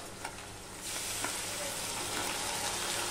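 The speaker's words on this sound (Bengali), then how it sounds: "এই পেস্ট করা বা গ্রেট করা পেঁয়াজ রসুনটা ভালো করে ভেজে নিতে হবে" Grated onion and garlic paste hits hot oil with a salted sizzle for a Bengali bhetki fish curry, the frying swelling louder after a moment into a dense, steady close hiss with light stirring.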